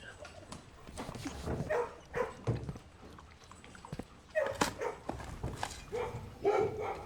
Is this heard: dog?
yes